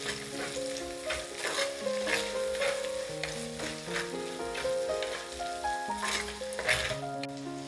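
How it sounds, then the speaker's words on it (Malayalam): Prawn curry ingredients with salt being sautéed in a pan for Kerala-style prawn curry, a steady close sizzle with stirring, overlaid by continuous background music throughout. "ഇനി നമുക്കിത് വഴറ്റിയെടുക്കാം"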